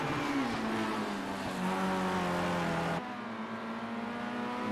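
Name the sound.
racing cars in a sim racing video game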